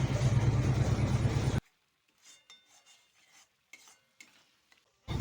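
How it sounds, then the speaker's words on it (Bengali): Spice paste with turmeric for a pabda fish curry sautéing in a pan: a loud, close sizzle-and-stir burst for about a second and a half, then near silence with faint scattered scrapes, and the sizzle returning at the very end. "দিয়ে বেশ ভালো করে মশলাটাকে আরও একবার খুব ভালো করে কষিয়ে নিতে হবে"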